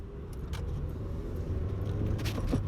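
A manual stick-shift car pulls away, its engine a steady low rumble with a faint rising tone heard from inside the cabin, along with some light rattling and a few soft clicks.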